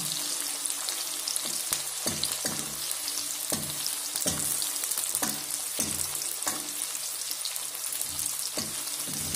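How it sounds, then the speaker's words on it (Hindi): Onions frying in a pan for egg bhurji: a steady broadband sizzle runs throughout, broken by regular scraping stirs every second or so, close and alone with no talk. "प्याज को बिल्कुल अच्छे से जो है फ्राई कर लेंगे, ब्राउन होने तक पकाना है प्याज को"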